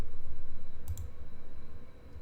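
A computer mouse button clicks in a BACnet scan tool, a quick double click near the middle of an otherwise quiet stretch with a faint steady hum.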